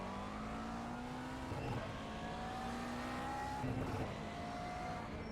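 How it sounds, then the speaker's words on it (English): Race cars in a racing video game close in behind a McLaren MP4-12C GT3, their engines forming a steady, continuous drone with rising pitch. The sound swells twice as the cars draw nearer, with no talking over it. "There's a car approaching"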